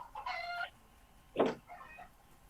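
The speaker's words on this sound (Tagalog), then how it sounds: "Yung manok yung sumasagot" A chicken clucks in the background in two short bursts, fairly faint and separated by a pause.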